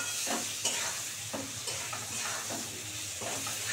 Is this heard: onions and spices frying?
yes